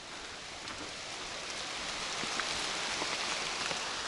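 Rain begins falling in a forest, a faint, steady hiss of drops pattering on leaves and ground, gradually building slightly, with no voices.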